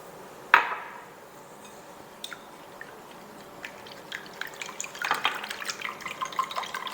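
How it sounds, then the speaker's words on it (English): Milk poured into beaten eggs in a bowl: a single sharp splash-like hit, then a quiet stretch and a denser run of dripping, splashing liquid near the end, with no voices. "To the eggs, we're going to go ahead and add our milk."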